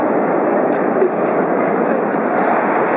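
A metro train at Teatralna subway station fills the platform with a loud, steady rumble and hiss that stays constant from start to finish.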